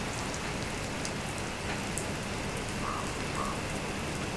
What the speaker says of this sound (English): A lot of raining.